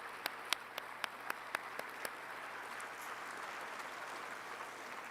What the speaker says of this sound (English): Please give another big round of applause for the 15th World Forestry Congress